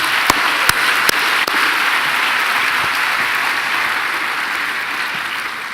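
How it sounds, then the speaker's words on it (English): A crowd applauds at a teacher appreciation event, broad sustained clapping held at an even level throughout, with a few sharper individual claps standing out near the start. "Let's give another round of applause to Sam's Furniture."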